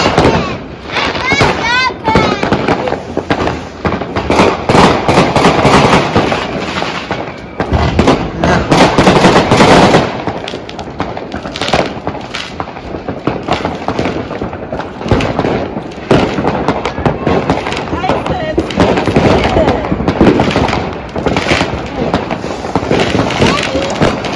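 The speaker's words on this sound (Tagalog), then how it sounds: "Dami na paputok." New Year's Eve fireworks and firecrackers crackle and pop in dense, rapid bursts, with louder bangs rising and fading over a long stretch, voices occasionally audible.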